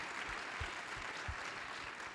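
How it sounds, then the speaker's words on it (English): An audience claps at a speaking event, producing steady, dense applause heard at a faint, distant level without any clear voices above it. "That's worth clapping for."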